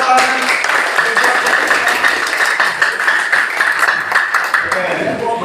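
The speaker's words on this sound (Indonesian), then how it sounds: "Kita kasih tepuk tangan." Students and a teacher in a classroom practice session clap together, a burst of scattered hand claps that fills the room, with some voices mixed in near the end.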